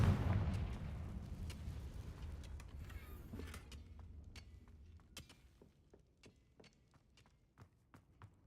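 Confringo fire-explosion spell in Hogwarts Legacy, a loud blast at the start decaying into rumbling debris, followed by a series of sharp, fainter crackling impacts spaced out across the rest of the clip.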